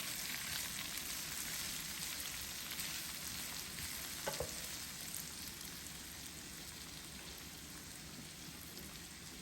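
Tomatoes stirred into sardines cooking in a pan for smothered sardines, a soft continuous frying hiss like light rain with a brief clatter midway, fairly quiet and with no talk.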